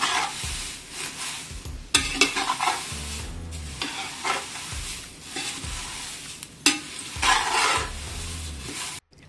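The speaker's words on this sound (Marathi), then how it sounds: "आता आपण या टोपामध्ये तेल टाकूया थोडंसं आणि पोहे भाजून घेऊया" Ragi (finger millet) poha flakes roasting in a little oil in a pot: a spatula stirs and scrapes in loud, steady strokes over a continuous dry sizzle, with no talking.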